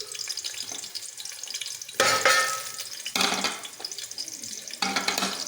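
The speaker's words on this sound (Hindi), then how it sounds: "और ये गर्म होगा। हम इसमें प्याज डालेंगे।" Onions dropped into hot oil in a pot sizzle and hiss, in a few loud bursts as they hit the oil and are stirred, over a continuous softer frying crackle.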